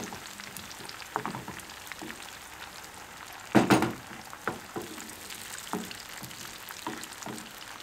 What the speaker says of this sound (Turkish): Şöyle salçanın kokusu çıkana kadar çok az kavuruyorum.